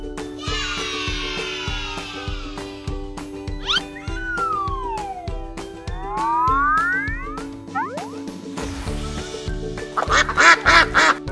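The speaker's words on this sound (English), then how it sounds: "Duck." Near the end, a farm duck gives a rapid run of loud, nasal quacks, following a stretch of bouncy children's background music with whistles and sliding tones.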